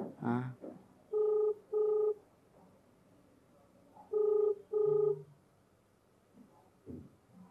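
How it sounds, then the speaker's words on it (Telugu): Two pairs of electronic ringback tones sound through a phone line, evenly spaced, with brief voice fragments before and after. "రింగ్ అవుతుంది."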